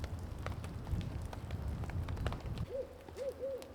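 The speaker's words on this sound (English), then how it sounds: "Saw the owl today." An owl gives three short, clear hoots close together near the end, after a stretch of dense crackling, rain-like noise outdoors.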